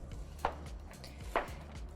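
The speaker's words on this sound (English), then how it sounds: "So I'm just gonna start cutting and chopping and slicing up this onion." A knife chops and slices through an onion on a board, with two distinct sharp cuts about a second apart, close and fairly quiet.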